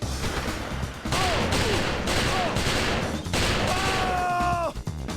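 Sustained gunfire in the video game XIII, a dense loud fusillade of rapid shots that keeps on almost without pause, with whizzing ricochet-like tones and a player talking faintly underneath.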